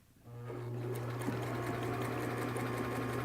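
A sewing machine runs steadily, stitching fabric around the tip of a sewn cap, its motor hum constant and close after a brief quiet start, with no talking.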